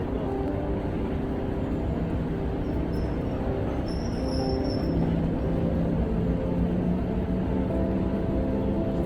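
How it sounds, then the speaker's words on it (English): A train rolls into a station platform with a steady, broad rumble, and a brief high wheel squeal rises near the middle of the pass. "Well back from the edge of the platform as the train arrives."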